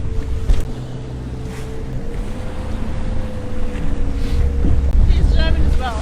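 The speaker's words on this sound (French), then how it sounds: "Avec le vent et l'eau, c'est pas simple du tout." Strong wind buffets the microphone over rushing rough sea water aboard a Mini Transat racing sailboat, with a steady low roar and occasional splashes and creaks.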